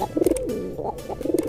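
Pigeons kept for training coo in soft, throaty, repeated phrases at close range, two bursts separated by a brief pause, with no talk over them.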